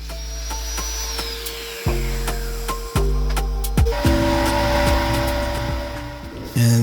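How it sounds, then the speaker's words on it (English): Belt sander smoothing the rough side edges of wood strips, a steady motor whine broken by repeated grinding passes as each strip is pressed to the belt, close and fairly loud. "And then I run it on the belt sander to remove some of the rough edges on the sides."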